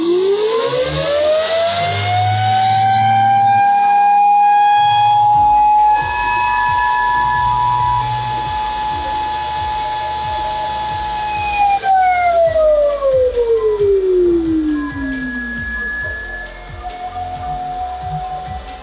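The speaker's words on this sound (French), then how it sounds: "cet ASIC fait 80 décibels au démarrage." Whatsminer M21S ASIC miner fans spinning up at startup, loud and close: a whine rises in pitch, holds steady over a dense roar for several seconds, then slides down again as the fans ease off.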